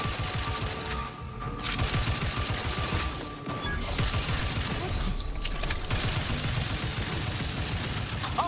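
Rapid gunfire in The Outer Worlds 2, sustained bursts of automatic shots with brief lulls between volleys and mechanical clatter, loud and dense throughout.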